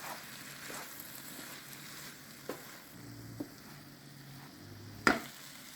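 Zucchini sautés with garlic in a pan after lemon juice goes in, a soft, continuous sizzle and fry with a few faint stirring knocks and one louder clatter near the end, quiet and close, no talking.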